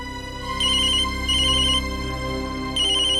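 A phone ringtone plays in three short electronic bursts over a steady tonal background, moderately loud and clear.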